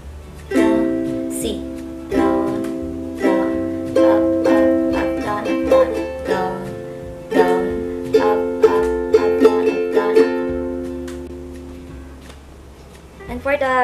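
Ukulele strummed in the rhythmic down-up pattern for None But Jesus, repeated chord strokes in steady bursts, close and moderately loud with brief pauses between phrases.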